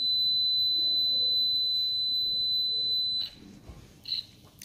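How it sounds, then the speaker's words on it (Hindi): A multimeter in continuity mode gives a sustained, loud, steady high-pitched beep for about three seconds, then stops, followed by two short faint chirps as the probes move, in a mobile repair setting. "इसके बाद में इसे हम बीप पे लगाएंगे।"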